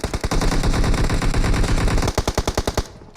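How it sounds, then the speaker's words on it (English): Rapid automatic gunfire in the mobile shooter PUBG Mobile during an elite battle match, loud and continuous at first, then breaking into a rhythmic burst of about a dozen distinct shots before stopping abruptly. "Will take shots on him and Falcon will get reduced"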